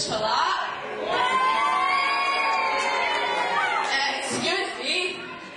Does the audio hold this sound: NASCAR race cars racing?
no